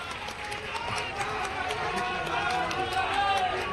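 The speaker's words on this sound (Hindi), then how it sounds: "मैं चाहता हूँ एक बार जोरदार ताली से आप लोग इनका भी।" Dense, steady applause from a large crowd at a political rally stage in Hajipur, filling the whole stretch and swelling slightly toward the end, with a voice faintly underneath.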